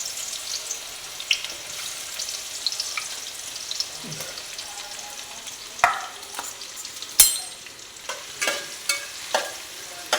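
Mango pieces fry in hot oil for pickle, a soft steady sizzle with scattered crackles and occasional stirring clicks, fairly quiet and close.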